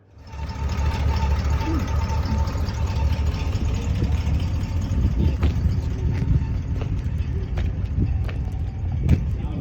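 An AMC car engine idles steadily at close range, a continuous low rumble that holds even throughout, with voices talking over it.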